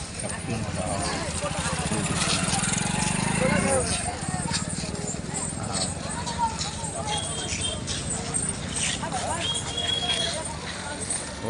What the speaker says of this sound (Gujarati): આટલા બધા ઘોડા